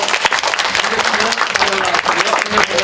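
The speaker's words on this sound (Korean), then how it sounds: "우리 가위바위보 게임에 참여하신 분, 왕과 참여하신 분들 박수 부탁드리고" At a live stage performance, a close crowd applauds loudly for the players of a rock-paper-scissors game. The clapping is dense and continuous throughout, with voices mixed in.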